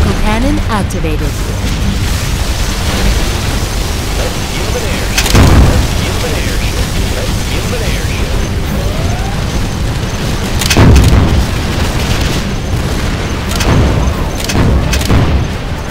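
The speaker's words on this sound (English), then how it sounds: "Particle cannon activated." Several deep booming particle cannon blasts in Command & Conquer: Generals Zero Hour, spaced a few seconds apart, over a dense rumbling battle din with scattered effects.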